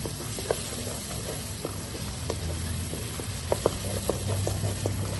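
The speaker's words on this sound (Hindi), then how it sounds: "टमाटरों को जो है हमने अच्छे से भून लेना।" Tomatoes fry in a pan, giving a steady close sizzle broken by scattered sharp taps and scrapes of a spoon moving them around.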